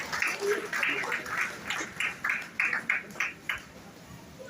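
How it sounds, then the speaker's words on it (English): Audience members at an empowerment programme clap in a series of distinct, evenly spaced bursts, fairly faint and thinning toward the end. "Please, a round of applause"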